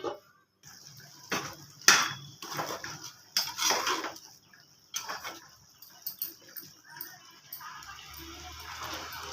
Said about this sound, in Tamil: மூடி போட்டு கொதிக்க விட்டுருவோம்.